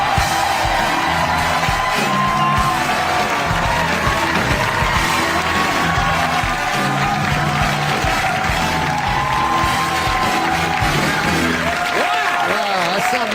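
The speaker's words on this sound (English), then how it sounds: "You came out here, you lit this crowd up." A studio audience cheers, whoops and applauds loudly and steadily as comedian Norm Macdonald walks out onto a talk show stage, the roar sustained throughout with scattered yells.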